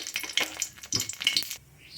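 Cumin seeds and two dried chillies frying in hot mustard oil in a kadai, a bright close sizzle and crackle with brief stirring scrapes that tails off near the end.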